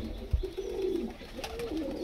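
A pair of Kasuri pigeons coo close by in a soft, low, throaty sequence. A brief thump comes first, then warbling coos roll on for about two seconds with no speech.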